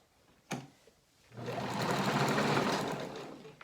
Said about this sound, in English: sew to the end, back stitch